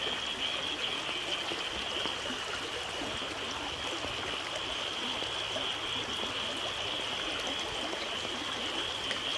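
Floodwater pours steadily from a flooded paddy field in Kerala into a ditch about a person's height deep, a continuous close rushing and gurgling flow with no voices.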